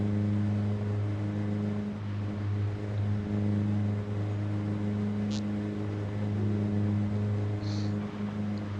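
A modded Ghostbusters car in the Project Zomboid video game has a steady, droning engine hum that holds an even pitch throughout and is heard alone, with two faint brief clicks.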